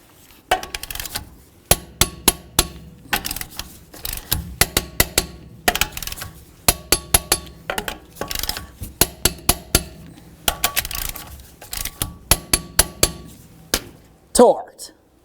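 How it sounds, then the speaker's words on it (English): Torque wrench tightening the wheel lug nuts on a 2000-2005 Buick LeSabre in a crisscross pattern, giving a series of sharp metallic clicks in rhythmic groups, close and loud. "go ahead and torque each of these to 100 foot-pounds in a crisscross manner."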